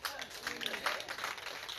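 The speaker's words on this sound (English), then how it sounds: "Let's give a big applause to the living God." A church congregation claps in applause, a brief spatter of many hands that stays moderate and fairly distant while a voice talks over it.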